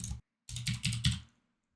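A few quick keystrokes tap out a price on a computer keyboard, close and crisp: one short click, a brief pause, then a run of four clustered taps fading out.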